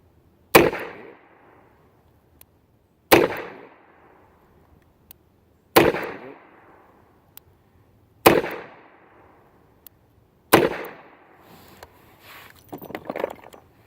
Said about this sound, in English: Start out with 6 158 grain 38 specials at the steel silhouette.